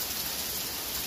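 Heavy thunderstorm rain pours down in Rotterdam, New York, in a dense, steady hiss, loud and close with no pauses or voices.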